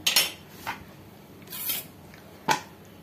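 A knife trims the edge off a peeled raw green mango, making a few short, crisp cuts and knocks against a board, spaced irregularly and close up, with no talk.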